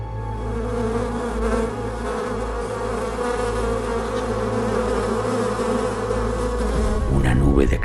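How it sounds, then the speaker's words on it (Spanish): A cloud of strange insects buzzes loud and close inside a hollow among giant sandstone rocks, a continuous droning hum that holds steady before a brief shift at the end. "Una nube de extraños insectos le dio la bienvenida."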